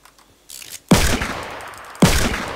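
Two loud, close sniper rifle shots from the Fortnite video game, about a second apart, each a sharp crack with a long decaying tail, preceded by a brief quieter mechanical rustle.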